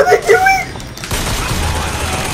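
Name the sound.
gunfire in the video game BioShock Infinite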